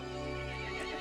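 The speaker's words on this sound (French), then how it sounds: "Le cheval se mit en colère et appela les autres monstres." A horse in the Resident Evil Village video game lets out one dense, continuous neigh, loud and close, filling the whole short moment with no voices over it.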